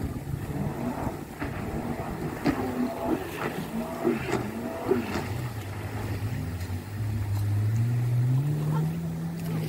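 Motorboats run on a busy lake, with a continuous low engine drone that swells and rises in pitch near the end as one boat passes closer. Faint background activity is mixed in throughout.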